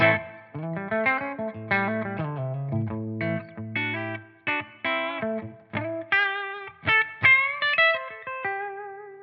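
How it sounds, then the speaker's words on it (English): Clean electric guitar on a bridge humbucker through reverb, played as a melodic line of plucked notes and chords with ringing sustain, loud and alone. "So starting here with the clean bridge humbucker."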